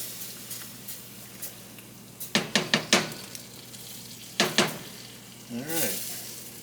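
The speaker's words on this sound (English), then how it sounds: "you want to always stir this as you're adding." Gluten-free chicken à la king sauce is stirred in a pan, with clusters of sharp utensil clacks and scrapes over a low background sizzle, heard close and without talk.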